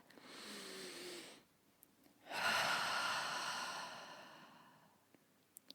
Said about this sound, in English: So I want you to take a deep breath.